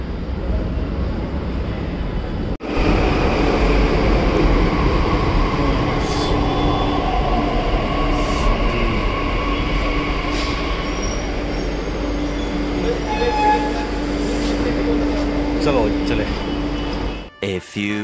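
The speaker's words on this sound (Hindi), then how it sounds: "ये रही हमारी मेट्रो।" A Delhi metro train pulls into the station with a loud, steady rolling rumble and a sustained electric whine, joined by brief squeals near the end, while voices sound faintly in the background.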